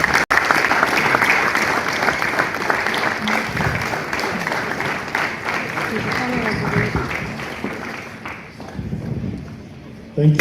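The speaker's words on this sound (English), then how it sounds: "let's give a round of applause to Professor Tanko Ishaya as he comes forward to give us his remarks" Sustained audience applause at an annual lecture series and scientific session, dense steady clapping filling the hall as a professor comes forward, with voices mixed in and a brief thud near the start.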